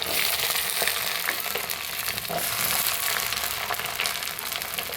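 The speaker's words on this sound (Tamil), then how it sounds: "இது எல்லாத்தையும் போட்டு நல்லா வதக்கிக்கலாம்" Garlic, green chilies and shallots sauté in oil in a clay pot, giving a steady, close sizzle with faint stirring clicks and no talk.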